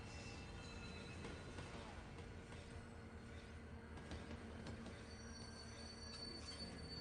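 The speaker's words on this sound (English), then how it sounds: "What a fun and interesting train ride." Train ride in the video game Netherworld: Beyond Time, with steady rumbling rail noise and high metallic squealing throughout, under a faint voice.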